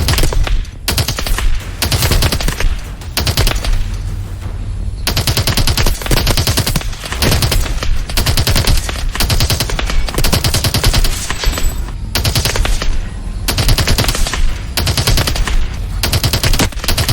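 Rapid automatic gunfire from the Call of Duty: Advanced Warfare video game, loud and near, in sustained bursts with brief gaps between them.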